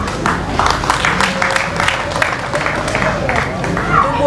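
Crowd applause for the President at a Tanzanian gathering, a dense, steady patter of many hands clapping throughout, mixed with a murmur of voices.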